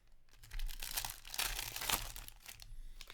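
Crinkling, tearing rip of a 2020-21 Upper Deck Stature hockey card pack wrapper being torn open by hand, a few close crackling bursts over about three seconds with no talk.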